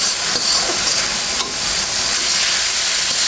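Hot water poured into a large wok of frying masala with snakehead (shol) fish, producing a steady loud sizzle and hiss of steam throughout, with no talking.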